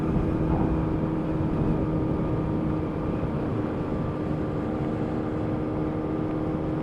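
A 1980s Yamaha RD250LC two-stroke motorcycle ridden on the road, engine droning steadily and loudly under heavy wind rush with no clear gear changes.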